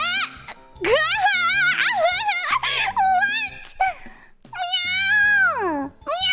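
A person imitates a cat, voicing several drawn-out, wavering meows in a high, kittenish tone, close and loud, with short breaks and a long final meow.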